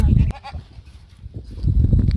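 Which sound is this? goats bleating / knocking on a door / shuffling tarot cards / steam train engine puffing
goats bleating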